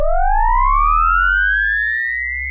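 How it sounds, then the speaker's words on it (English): A synth riser built in Ableton Operator with a reversed pitch envelope: a single bright tone with overtones glides steadily upward for a few seconds over a low sustained bass, loud and alone. "This is just a riser sound that I made. It sounds like this."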